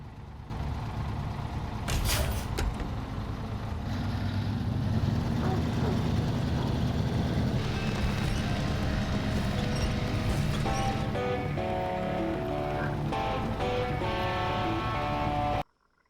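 A heavy truck in SnowRunner on the Island Lake map grinds along with a steady, loud engine drone and rumble, joined by clanks and mechanical tones toward the end, then cutting off abruptly.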